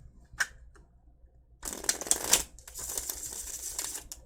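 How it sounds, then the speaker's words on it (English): A deck of tarot cards gets a brief shuffle, a quick riffling flutter of close, crisp card edges lasting a couple of seconds after a faint tap. "Let's give it one more shuffle here."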